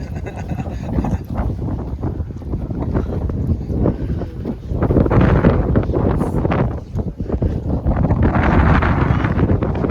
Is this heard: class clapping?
no